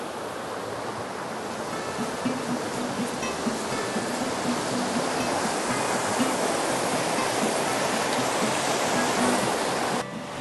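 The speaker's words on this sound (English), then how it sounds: "Fast water." Fast-flowing trout stream water rushes loud, close and continuous, a dense steady roar with no voices.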